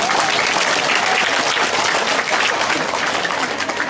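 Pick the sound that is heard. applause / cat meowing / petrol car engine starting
applause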